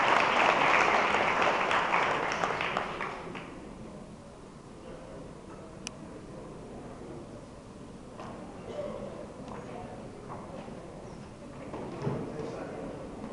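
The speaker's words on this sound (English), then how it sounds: "Please give this man a big hand" Audience applause at a live tribute show, loud clapping for the first few seconds that fades into quieter crowd murmur and scattered claps.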